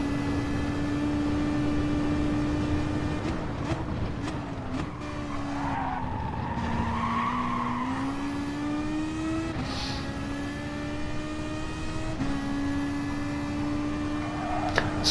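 Race car engine from a racing video game on an in lap, with sustained engine drone that dips and climbs through gear changes, some tire skidding, steady and loud throughout, no talk.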